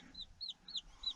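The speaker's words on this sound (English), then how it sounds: "A little game hen here, she hatched out a baby, and it's following her around." A game hen clucks near her newly hatched chick, four short high-pitched calls in a quick, fairly even rhythm, faint and close against a quiet outdoor background.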